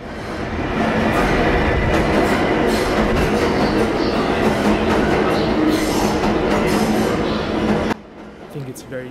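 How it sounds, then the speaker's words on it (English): A subway train rumbles loudly and steadily for about eight seconds, with a dense roar and some metallic clatter, then drops off sharply into quieter ambient noise. "people can relate to the sound of the subway in whatever the city they're in"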